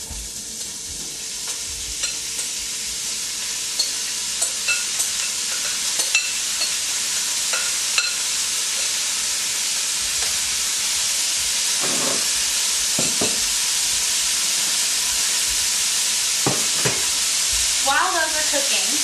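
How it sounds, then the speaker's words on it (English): Vegetables sizzle and fry in hot bacon grease and olive oil over medium-low heat, a steady dense crackling hiss with occasional stirring clatter, close and continuous without talk. "Watch out for the sizzle when your vegetables hit the grease."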